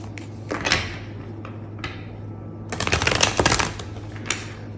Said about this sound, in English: Do a good hard shuffle.